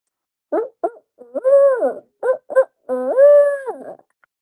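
A person imitates an owl with a voice, giving a series of hooting calls: two short hoots, then a long wavering hoot, two more short ones and another long hoot, close and clear against silence.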